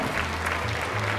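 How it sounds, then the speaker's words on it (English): A concert audience claps in a short, steady burst, moderately loud and filling the room. "Let's give her another round of applause."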